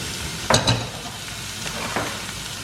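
Onion hits hot oil and fries with a steady hiss for a potato sandwich filling, opened by a couple of sharp stirring clatters, then the sizzle carries on with faint utensil taps.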